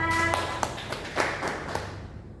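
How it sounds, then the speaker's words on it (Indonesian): A few sparse hand claps ring out in a classroom for a student, separate slaps spaced unevenly after a brief tone, light and fading quickly. "Tepuk tangan untuk Elsa."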